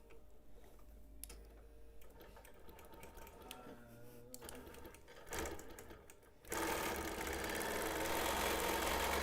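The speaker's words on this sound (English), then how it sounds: "I'm going to go ahead and start stitching a line" A sewing machine stitches a straight line across a quilt in a steady, close, mechanical run. The stitching is fairly quiet for the first half, then a louder, denser whirr takes over near the end.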